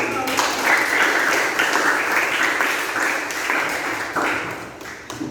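Classroom applause from pupils, a dense burst of clapping in a room that holds steady, then thins toward the end, with some voices mixed in.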